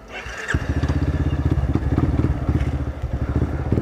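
A motorcycle engine idles nearby with a fast, even, pulsing rumble that starts about half a second in and keeps running steadily to the end.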